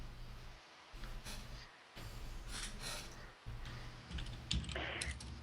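Typing on a computer keyboard, a run of light clicking keystrokes in short irregular bursts with brief pauses, fairly quiet and close, with some breathing.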